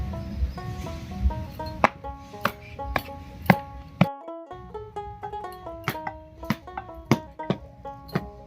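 Soil being crushed for a brick and clay oven gives sharp, irregular knocks and thuds, close by, spaced about a second apart, over a faint background of birdsong.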